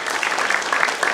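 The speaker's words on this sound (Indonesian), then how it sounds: "Tepuk tangan buat teman-teman kita dari BLM." An audience at a community event claps in a brief, close burst of applause that lasts about a second.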